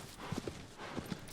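Horse hooves clop across the ground in the video game Shadow of the Colossus, a few faint, uneven thuds heard from a distance with no other sound.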